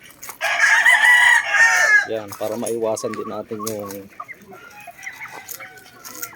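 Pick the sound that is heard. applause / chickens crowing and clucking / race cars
chickens crowing and clucking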